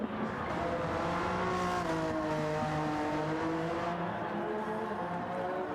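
Race cars in a Gran Turismo video game race on track, engines whining continuously with rising and falling pitch as they accelerate, shift and pass, steady and fairly loud with no talk.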